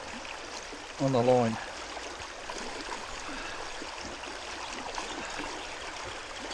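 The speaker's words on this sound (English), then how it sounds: "have this sluice set up nicely like that, right? The water pushing it." Water runs steadily through a gold sluice box outdoors, a broad continuous rushing wash with a short spoken phrase over it near the start.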